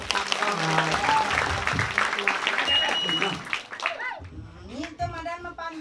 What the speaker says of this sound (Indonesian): Tepuk tangannya dong, ring tetangga.